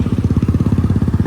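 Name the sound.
motorcycle engine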